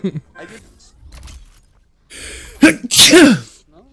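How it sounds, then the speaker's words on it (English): A loud, close sneeze from a person, preceded by quieter gasps and breathing, with a voice reacting around it. "I almost blew my brains out with the sneeze."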